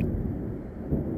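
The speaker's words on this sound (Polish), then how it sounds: "Straszne te burze są." A thunderstorm rumbles in The Sims 4, a steady low roar of thunder with a slight swell near the end, filling the whole moment without any voices.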